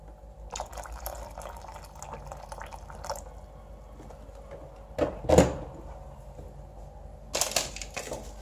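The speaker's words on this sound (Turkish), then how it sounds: "Biraz daha su koyalım." Water poured during restoration of an old tree-pruning axe, with gentle trickling and dripping, followed by a few louder splashes, close by, alone and without talk.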